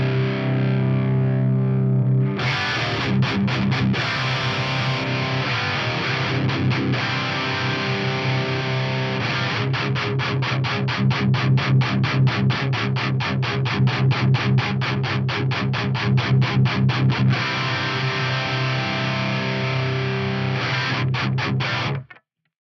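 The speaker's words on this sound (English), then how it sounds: "that's the main tone, and you can hear this multi-band compressor is taking out that real woofy thing from the Mark" Heavily distorted electric guitar through a Mark-style amp sound with a multi-band compressor, played alone for a long stretch: a sustained chord opens into fast, tightly muted rhythmic riffing at steady, loud volume.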